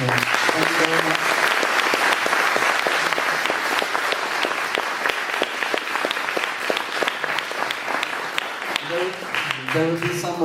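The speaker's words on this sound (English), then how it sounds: "Please, a big applause for the panel." Steady, dense audience applause for a church discussion panel fills the room at close range, holding strong throughout with a few voices and musical tones surfacing near the end.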